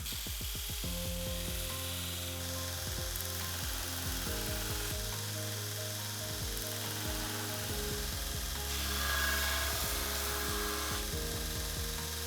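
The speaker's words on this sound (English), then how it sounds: "a pretty useful little belt grinder that made grinding this hard aluminum bronze really easy" A 2x42 belt grinder working hard aluminum bronze, a close, loud continuous whir overlaid with repeated grinding passes that rise and fall as metal meets the belt, steady for several seconds.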